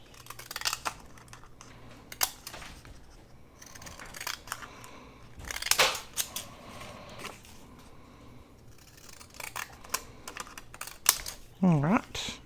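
Scissors snip through paper while an envelope is being made, several short crisp cuts scattered through the clip with rustling and handling of paper, close and fairly quiet.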